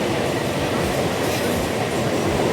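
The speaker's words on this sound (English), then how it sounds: "I'm in the train." Mumbai local train in motion, a loud, steady rumble of wheels and carriage with rhythmic clickety-clack over the rails, close and continuous throughout with no talking.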